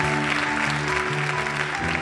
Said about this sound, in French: Comment est-ce qu'on peut leur donner une bonne main d'applaudissement?